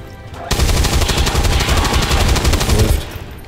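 A loud, close burst of automatic gunfire in the game XCOM 2, a dense rattling stream of shots that lasts about two and a half seconds before cutting off.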